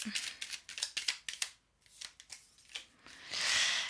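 Oracle cards being shuffled and drawn from a deck, a quick run of crisp papery riffles and flicks close up, then a brief pause and a longer soft sliding swish at the end, with no talking.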